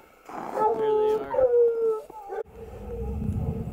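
Hunting hounds bay and howl on a mountain lion's trail across a hillside in Utah's Bookcliffs, with several drawn-out, wavering howls close by, a brief break, then quieter rough background noise.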